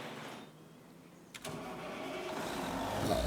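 A truck engine cranks and catches with a sharp start, then settles into a steady, gradually building idle rumble close by.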